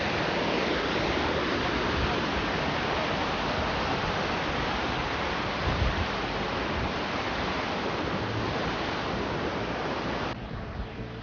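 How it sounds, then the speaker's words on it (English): A waterfall in Fulufjället National Park roars as a loud, close, unbroken rush of water with no voices, fading slightly just before the end. "Another view from the waterfall."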